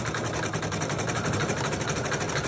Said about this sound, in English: So it's going to do a triple stitch, which is our tack down stitch.